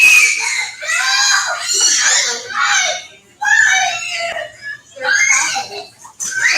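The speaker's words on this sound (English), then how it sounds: "I'm at a McDonald's, by the way, and there's kids screaming." Children at a McDonald's restaurant shriek and scream loudly in repeated bursts close by, with giggles and high-pitched kid chatter mixed in.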